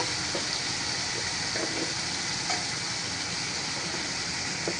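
Taro pieces added to spiced oil with green chillies sizzle in a pan, giving a dense, even crackle close up with faint ticks and clinks of stirring and no speech.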